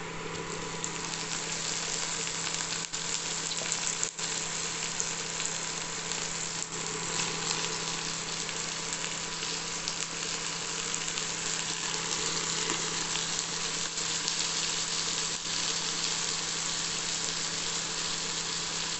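Onions and potato pieces fry in a pan for veg pulao, a quiet, even sizzle running steadily for the whole stretch with a faint hum underneath and occasional soft ticks.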